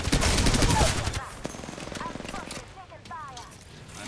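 Bursts of automatic gunfire in an Apex Legends match, dense and loud at first, then scattered shots trading back and forth under a player's voice.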